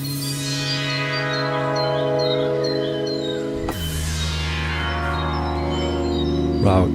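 Sustained notes on a Reaktor software synthesizer ring out with bright, shimmering overtones, a few pitches held and layered, ending in a swell of sound.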